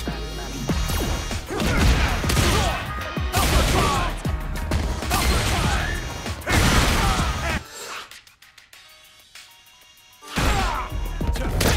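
A spinning fire kick attack in Street Fighter 6 brings a flurry of heavy impact hits, whooshes and crashes with game music, a short quieter lull, then another loud burst.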